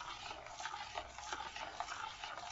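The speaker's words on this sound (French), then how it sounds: "On tourne bien, on mélange bien, que les œufs soient bien dans la pâte." Eggs being stirred into a semolina cake batter with a utensil, a soft, close, continuous wet slapping and scraping in a quick, even rhythm with no voices.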